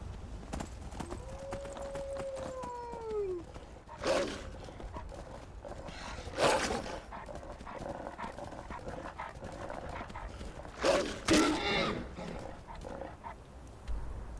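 Wolves in the video game Skyrim snarl and bark in a few sharp bursts near a rider on horseback, with a horse-like whinny early on over a steady game background.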